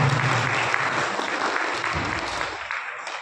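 Dense applause from a crowd at a Sant Ravidas Jayanti ceremony at the ordnance factory in Muradnagar, steady and fairly loud, fading slightly toward the end.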